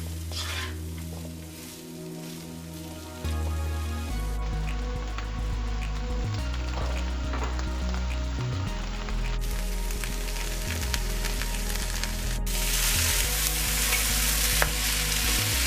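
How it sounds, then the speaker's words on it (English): Chicken liver, gizzard and channa fry in a pan with a steady sizzle that turns louder and denser partway through, with stirring scrapes and low background music, no talking. "I'm gonna let this fry for 5 minutes."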